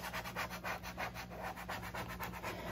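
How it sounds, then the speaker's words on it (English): A tool rhythmically rubs and scrapes a vinyl label onto a surface, with repeated quiet strokes at a steady pace, close and faint. "I'm gonna kind of like scrape it on there like that."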